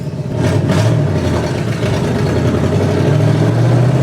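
A 4-speed Z/28 Camaro engine pulls away while driving, a loud close low rumble that swells and holds steady as the car accelerates, with no one talking.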